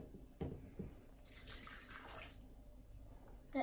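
Milk is poured into a container with ice cream for an Oreo milkshake, a quiet splashing stream running for about two seconds after a couple of soft knocks, recorded close but faint.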